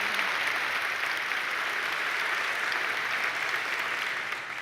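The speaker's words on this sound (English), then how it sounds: "You're supposed to applaud" Conference audience applauding, a dense, steady wash of clapping that holds evenly for several seconds before starting to thin near the end, with no voices over it.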